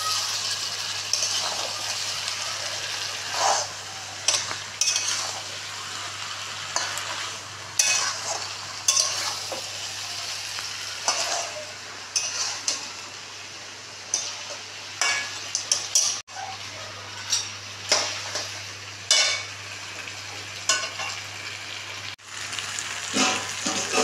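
Potatoes being stirred and fried in a pan for a curry, a steady sizzle with repeated scraping stirs throughout, close and fairly loud, with a low constant hum underneath.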